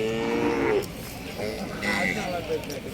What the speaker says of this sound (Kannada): ಎತ್ತು ಮತ್ತು ಹಸುಗಳು.